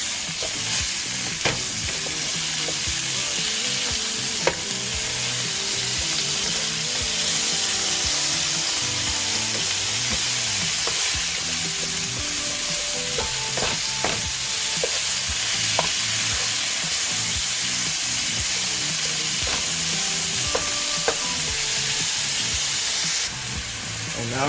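Jambalaya meat frying in a pan after forming a crust, a continuous loud sizzle with intermittent scraping and clinking as it is broken up and stirred.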